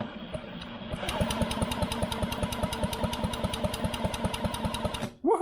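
A Velo Solex 5000 moped engine running on a workbench, putting out a steady, rapid, even putter after a brief start-up, close and fairly loud, before it cuts off abruptly near the end.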